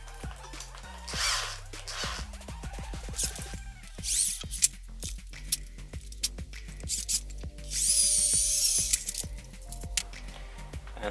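A small 3mm bit drills a hole through a workpiece for a homemade wire stripping tool, giving short repeated grinding and rubbing bursts with clicks, closing in a longer steady whir near the end, with no talk.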